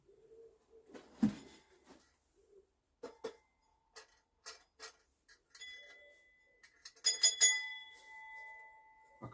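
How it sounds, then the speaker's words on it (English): A commercial telephone bell rings in a cluttered workshop, with bright metallic ringing bursts near the end after scattered knocks and handling clatter, fairly close and moderately loud. "A commercial telephone bell."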